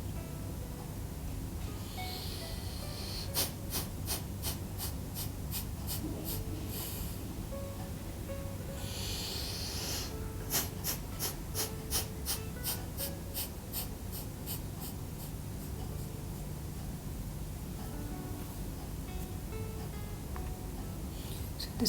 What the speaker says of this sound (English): Take a deep breath. And just release the whole exhale in spurts.